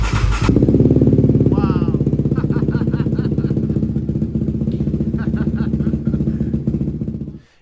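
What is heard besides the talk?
Yamaha Raptor 700 quad engine running after ECU swap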